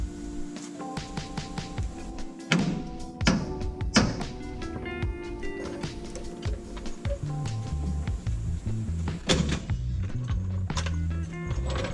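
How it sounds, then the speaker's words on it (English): A coil spring drops out of a C10 pickup truck's front suspension as a jack lowers, giving heavy metallic thunks and clanks among repeated knocks and taps in a garage, with no talk. "The spring falls right out."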